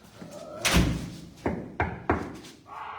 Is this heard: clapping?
no